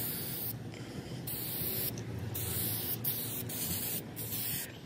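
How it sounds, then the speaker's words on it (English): Steady hiss of spray paint held close to cabinet doors, with several brief pauses where the spray cuts out and resumes. "I have the bottom doors were both also painted black, and I am spray painting them."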